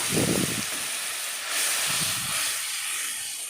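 Spice-rinse water poured into a hot pan while cooking a cauliflower curry, giving a continuous loud hiss and sizzle that rises briefly near the start and keeps steaming throughout.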